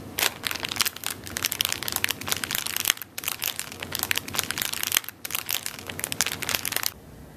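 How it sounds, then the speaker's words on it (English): Foley fire crackling made by rubbing a fist over a bag of chips, a dense, close crinkling crunch in three long bursts with short breaks between them. "To make the sound of fire cracking, you would take your fist and move it over a bag of chips."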